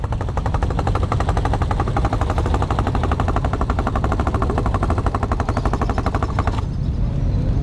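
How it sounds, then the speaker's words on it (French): A small supermoto motorcycle engine at a motorcyclists' demonstration in Clermont-Ferrand, giving a loud, steady rapid-firing buzz close by for most of the clip before it cuts off near the end. "Un petit super moto."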